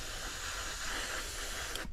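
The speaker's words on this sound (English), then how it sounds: "I'm trying to spray perpendicular to" An airbrush sprays night camouflage paint onto a Matchbox Ju-188 model plane, giving a steady close hiss with no pauses that ends in a short click.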